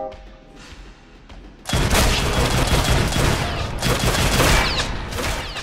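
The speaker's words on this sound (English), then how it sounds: "Pretty OP shotgun, not gonna lie." A very OP shotgun in the video game Maximum Action, fired in a dense burst that breaks in loud and abruptly after a quieter stretch and keeps up a heavy, continuous crackle of blasts to the end.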